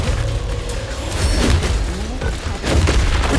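Bombarda spell blasts in Hogwarts Legacy, heard as dense rumbling booms and crackling impacts layered over a loud, continuous game soundscape with low thuds throughout.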